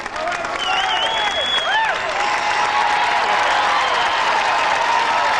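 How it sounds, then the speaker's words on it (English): A studio audience at an American Gladiators television competition breaks into loud, sustained applause mixed with cheering and whistles that holds steady throughout. "a nice round of applause for Dwayne,"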